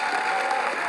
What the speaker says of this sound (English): Give the Lord a hand clap for that.